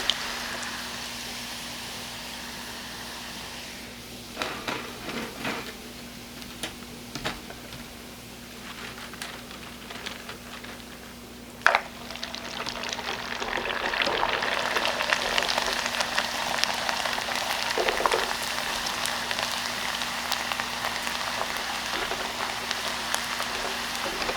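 Black sesame rice crackers deep-frying in very hot oil give a dense, steady crackling sizzle that swells louder midway, with occasional utensil knocks.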